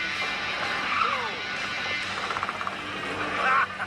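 A 1970 Porsche 917K race car roars through a corner at speed, its engine note rising and falling with rapid gear-change bursts near the end, set against a faint background hum.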